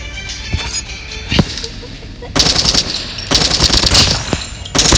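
Automatic weapon fire in the shooter game Call of Duty Mobile, sharp early shots then long rattling bursts of rapid gunfire, loud and close, with faint background sound between volleys.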